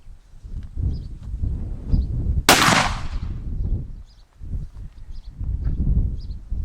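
A single rifle shot fired at a paper target: one sharp, loud report that rings out and decays over about a second, set against a steady low outdoor rumble with no talking.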